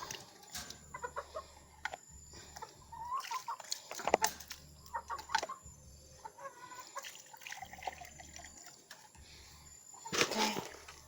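Chickens being fed cluck in short irregular bursts, with a louder squawk near the middle and another burst near the end, over quiet background noise.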